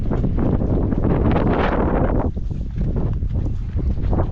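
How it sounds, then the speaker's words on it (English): Steady, heavy wind buffeting the microphone outdoors among cattle, a loud broadband roar that eases briefly before gusting again. "It's gonna be windy, so just bear with me."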